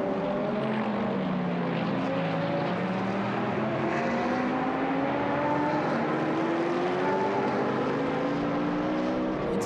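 GT1 race cars roar past the commentary box during a qualifying race at the Nürburgring in Germany. Loud, continuous engine noise with rising and falling pitch sweeps as the cars pass, with no talk over it.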